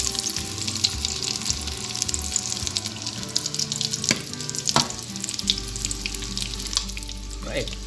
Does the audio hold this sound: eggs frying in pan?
yes